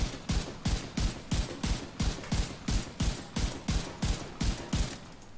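Rifle fire in the video game The Division 2, heard as a steady, rhythmic burst of about a dozen loud, evenly spaced shots with no voices over them.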